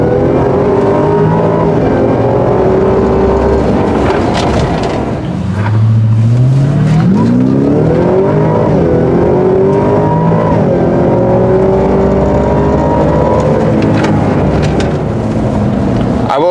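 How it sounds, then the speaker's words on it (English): A Ford F-150 Raptor R truck with a 10-speed automatic accelerates hard, its engine note climbing and dropping with each quick upshift, loud and close from start to finish with no talk. "Let's see how well this 10-speed clicks off the gears"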